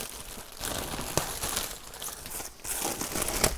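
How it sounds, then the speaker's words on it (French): Packaging around Lone Rider motorcycle bags crinkles and rustles close up, in irregular bursts with a few sharper crackles. "on va déballer ça ensemble, on va regarder ce qu'il y a dedans"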